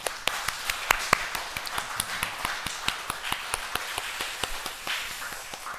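A church congregation claps during a Korean worship service on its founding anniversary Sunday, sparse distinct claps at an irregular rhythm, close and crisp over a quiet room.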